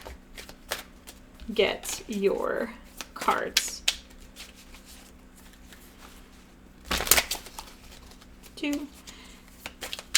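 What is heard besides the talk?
shuffling tarot cards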